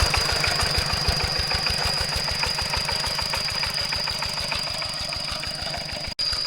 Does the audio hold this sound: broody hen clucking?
no